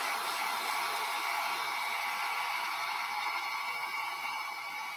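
A hair dryer blows steadily on a folk art Christmas ornament, a constant close whooshing roar that holds even for the whole stretch with no talking over it.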